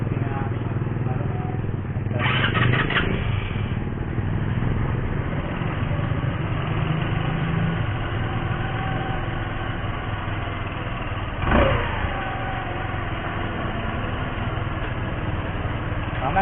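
A motorcycle engine idles at a steady, close drone right after an oil change, with a couple of brief louder bursts along the way.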